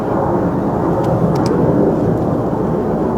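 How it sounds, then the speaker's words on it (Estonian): A distant aircraft drones as a low, steady rumble overhead, a broad continuous roar with no talk over it. "Laseme lennuki mööda."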